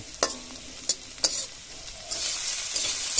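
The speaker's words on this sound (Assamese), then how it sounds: "এতিয়া কেৰাহীত লাগিবলৈ আৰম্ভণি কৰিছে এয়া সম্পূৰ্ণৰূপে এতিয়া হৈ গ'ল ফ্ৰাই কেৰেলা ফ্ৰাই হৈ গ'ল" Bitter gourd frying in a kadai, a bright continuous sizzle punctuated by several sharp spatula knocks against the metal pan, growing fuller and louder in the second half.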